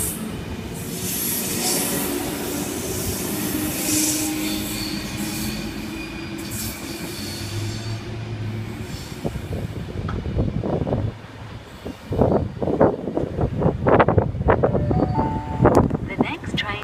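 A Sydney Trains train rolls into platform 1 at Blacktown station with a heavy rumble, then sharp metallic wheel squeals and clanks as it slows, with faint voices in the background.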